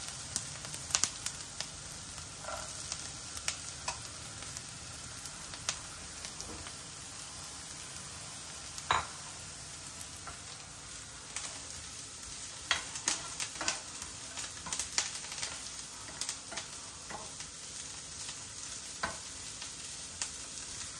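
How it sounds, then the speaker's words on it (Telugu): Onions and carrots fry gently in a pan for an upma, a soft, steady sizzle with scattered scraping stirs and small pops, fairly quiet and close. "ఇంకా ఉల్లిపాయలు కొద్దిగా వేగిపోతున్నాయి కదా, ఇందులో క్యారెట్స్ వేసేస్తాను"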